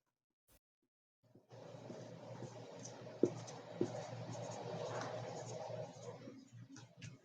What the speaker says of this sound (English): I'll draw in base 10 for you.